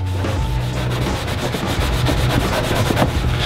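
A graffiti buff product being rubbed over a painted surface to lift paint: a steady, close scrubbing and rasping friction noise with quick repeated strokes, continuous for a few seconds with no voices.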